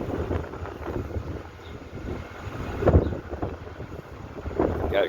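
Gusty outdoor wind buffets the microphone in uneven, rumbling surges that swell and fade, loudest near the middle and end, with no other clear sounds.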